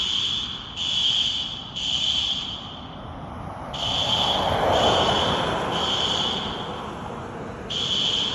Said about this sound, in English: I just wanted to show you this fire alarm event